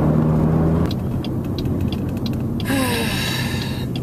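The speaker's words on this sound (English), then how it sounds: "now I'm driving to chemo" A car heard from inside as it drives along, giving a steady low road and engine rumble with a faint higher whine toward the end.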